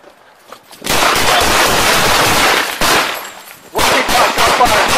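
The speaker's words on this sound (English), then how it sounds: "Shot fired." Gunshots fired by police during a roadside confrontation, loud rapid volleys of shots in two main bursts separated by a brief pause, close and harsh, with little talk.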